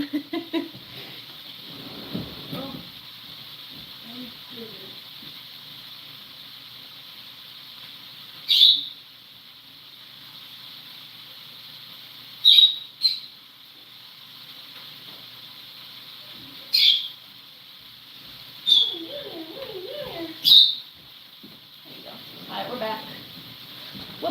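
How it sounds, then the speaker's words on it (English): Parrots let out shrill, piercing squawks five times at irregular intervals, loud and close, with a voice talking quietly in the background. "the parrots sound like a broken fire alarm sometimes"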